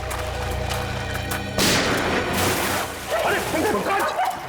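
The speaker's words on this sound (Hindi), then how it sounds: "एसीपी चित्रोले गोली चला रहे?" Gunshots are fired in a TV drama scene: a sudden loud blast is followed by further booming bursts, mixed with dramatic background sound and voices speaking.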